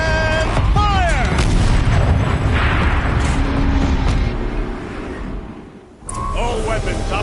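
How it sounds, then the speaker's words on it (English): Turret cannon fire in the Horizon Zero Dawn video game: a dense, loud rumble of booming blasts and mechanical whines sustained for several seconds, dipping briefly before another burst resumes. "Rotate turret! And fire!"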